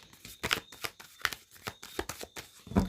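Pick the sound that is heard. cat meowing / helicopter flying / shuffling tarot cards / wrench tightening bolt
shuffling tarot cards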